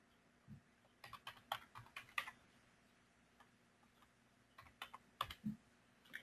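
Bursts of computer keyboard typing as a task name is entered into CRM software, quick clustered keystrokes in two runs separated by a pause, close and fairly quiet with no talking.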